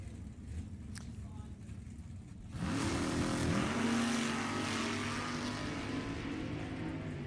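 A 634-cubic-inch Dart Chevy-powered 1970 Nova drag car launching at a raceway, a sudden loud engine roar that bursts in and climbs in pitch as it pulls away, holding strong over faint background crowd noise.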